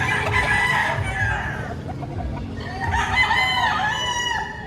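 Roosters crow one after another, nearby and loud, with a wide drawn-out call that overlaps clucking and a busy farmyard background at a poultry market in Padre Garcia, Batangas.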